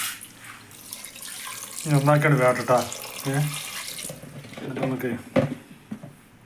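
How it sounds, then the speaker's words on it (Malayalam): Water runs and splashes steadily into a pot, with a voice talking over it in the middle of the clip. "വെള്ളം ഒഴിച്ചു"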